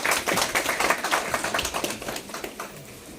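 An audience at a laptop distribution ceremony for meritorious students claps in a quick, dense burst of hand claps that gradually thins and fades over a few seconds.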